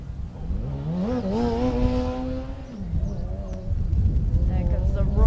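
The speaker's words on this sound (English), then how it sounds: "There comes the roar of ANU. Oh, I love that roar. I love that revving sound." Formula SAE race car engine revving, a loud rising and falling buzzy roar that climbs, holds, drops, then revs again under commentary voices.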